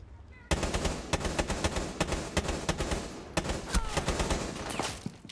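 Rapid bursts of automatic gunfire in Rainbow Six Siege, loud and close: dense volleys of sharp shots, a brief pause near the three-second mark, then more sustained firing, with no talking.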